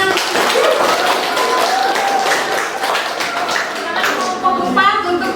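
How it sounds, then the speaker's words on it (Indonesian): Students clap together in a classroom during an Indonesian pharmacy academy lesson on atomic theory, producing a steady, fairly loud burst of clapping for about five seconds with voices talking underneath. "Oke, tepuk tangan."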